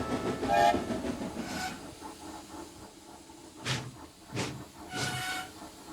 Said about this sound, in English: Trevon and Nate were shunting wagons